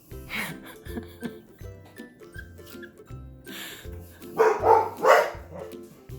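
Dogs bark in short bursts, a couple of sharper yaps standing out toward the end over background music.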